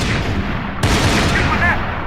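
Game gunfire in Max Payne 3, a dense run of shots and booms that turns louder and busier partway through, with a voice shouting over the action.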